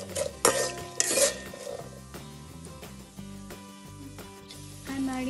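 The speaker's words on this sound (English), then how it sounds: "Next I am adding 2 cashews. Saute everything." Cashews sauteing in a pan for coriander rice, with clattering scrapes and metallic knocks of a spoon against the pan over a low background tone, loudest at the start and then softer and continuous.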